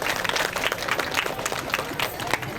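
An outdoor civic gathering in Bhavnagar breaks into applause for the deputy mayor, a dense steady patter of many hands clapping together for a few seconds, mid-distance and fairly loud.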